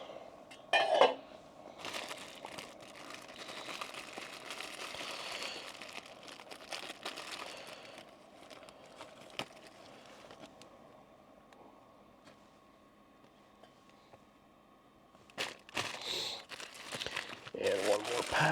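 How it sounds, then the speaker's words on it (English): Ramen going into a boiling pot on a camping trip in the Eastern Sierras, with nearby crinkling of the package and clinks of cookware, a voice at times, and louder rustling toward the end. "I'm gonna add the ramen."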